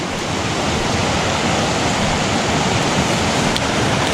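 Rushing water in a tiny creek roars steadily and close, a dense, unbroken wash of noise from fast-flowing current.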